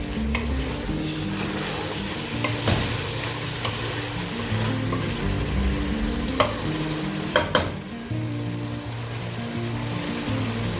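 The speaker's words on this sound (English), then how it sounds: "Don't mind the noises from my gas cooker." A gas cooker roaring steadily under a pot of simmering Nigerian efo riro vegetable soup, a constant low rumble with a few clinks and knocks, close and continuous, no talking.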